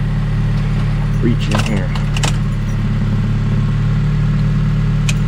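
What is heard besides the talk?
car engine starting after refuelling empty tank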